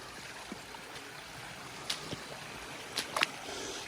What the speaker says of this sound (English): Kind of like a little river back here